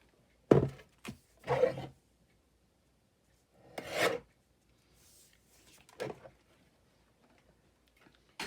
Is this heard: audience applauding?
no